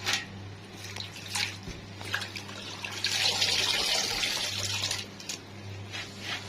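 Water runs and splashes steadily while taro is rinsed and cleaned, with a louder gush of flow in the middle and a low hum underneath, no voices.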